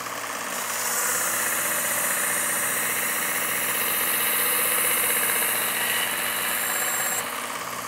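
A Work Sharp belt sharpener runs steadily while polishing a knife on its finest grit, giving a continuous motor whir with a bright belt hiss that holds even and close for the whole stretch, with no voices.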